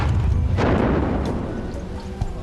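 A deep, rumbling blast from a detonation during landmine clearance swells loud and close, then slowly decays over a couple of seconds, with no voices.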